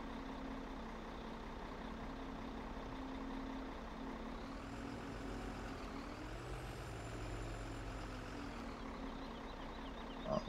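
A farm trailer's automatic loading mechanism runs under a steady engine drone, with a hydraulic whine rising and falling midway through; no one speaks.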